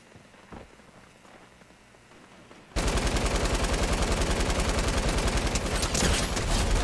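Gunfire from a favorite gun in a video game. After a quiet stretch with faint clicks, a loud, sustained automatic burst rattles in a fast, steady rhythm for several seconds.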